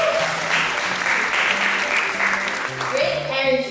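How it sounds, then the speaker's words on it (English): Audience applause at an MC school event in Surabaya, steady crowd clapping throughout with a voice and some music-like tones underneath toward the end. "Everyone please give a big round of applause."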